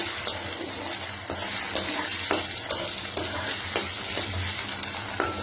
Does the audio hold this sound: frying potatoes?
yes